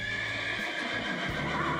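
A horse neighing as an inserted sound effect, a single loud, drawn-out whinny with a trilling rise and fall that lasts under two seconds, heard alone with no voices.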